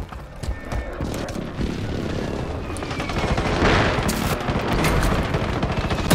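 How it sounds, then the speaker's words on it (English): Dense gunfire and explosive booms from a precision airstrike crackle and rumble continuously in a Call of Duty match, a loud, chaotic barrage of rapid shots and blasts that swells toward the end. "friendly precision airstrike inbound"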